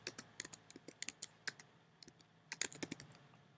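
Fingers tap out a short burst of typing on a computer keyboard, quiet and close, with uneven clusters of light key clicks and a few brief pauses.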